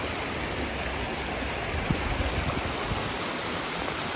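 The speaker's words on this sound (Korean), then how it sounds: "폭포가 있어서 구경하고 있어요" A waterfall roars steadily as a constant broadband rush of falling water, with no voices.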